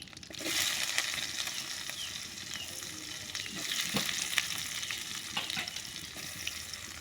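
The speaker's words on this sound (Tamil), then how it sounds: "இது நல்லா சபக்க வறுத்துக்கணும்" Onions sizzle and crackle steadily in hot oil, a bright continuous frying hiss with occasional pops and faint stirring scrapes.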